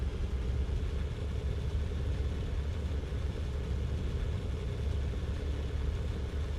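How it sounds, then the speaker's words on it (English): A tank engine runs at high revs in the video game Sprocket, giving a steady, even mechanical drone with constant low rumble throughout and no speech. "You can hear that the engine is rolling really high"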